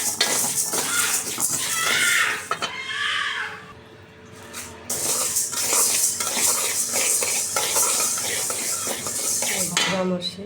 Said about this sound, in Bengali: দেশি মুগ ডাল আমি এখন ভেজে নেব রান্না করার জন্য।